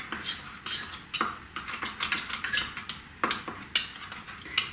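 Foundation pigment concentrate being stirred in a small container, giving a quick run of light clicking, scraping taps that start and stop irregularly, close and fairly quiet with no voices.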